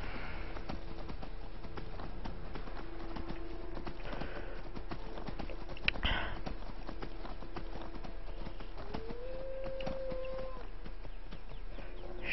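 Horse hooves clip-clopping in the Skyrim video game, a steady rapid patter of hoofbeats under constant game ambience, moderately loud with a brief louder thud midway and a faint tonal game sound near the end.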